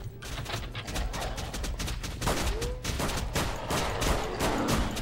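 Rapid gunfire from an alien shooter video game, dense bursts of repeated shots crackling close and loud over a continuous rumble, with a brief zapping sweep in the middle.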